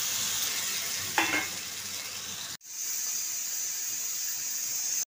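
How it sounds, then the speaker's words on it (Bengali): Water poured into a pan of frying potato chicken curry: a steady oil sizzle, a brief splashing burst as liquid hits, then a sudden drop and a renewed, softer bubbling hiss. "এবার আমি জল ঢেলে দেবো"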